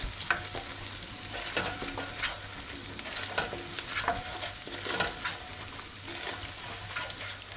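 Beef tail fat and oil sizzling in a pan for old-style beef kavurma, a soft, constant hiss with frequent clinks and scrapes of stirring and a faint low hum underneath, with no talking.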